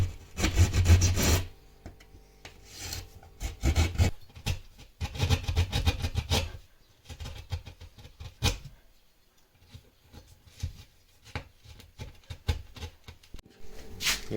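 Holes for ventilation grilles are cut into a wooden wall of a small timber house, giving irregular bursts of close, rasping cutting and scraping with short pauses between strokes.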